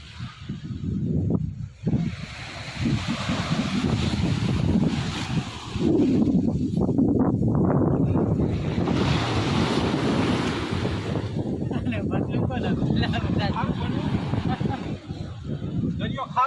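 Sea surf and wind along the shore roar steadily and loudly, with gusts buffeting the microphone and someone talking over it throughout.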